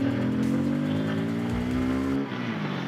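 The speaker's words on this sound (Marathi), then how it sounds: "फक्त 9000 RPM वरती रेव केलं गाडीला" A Bajaj Pulsar N250 motorcycle accelerating hard without the clutch, its engine revving high toward 9000 RPM with a loud, rising buzzing drone close by, then easing off.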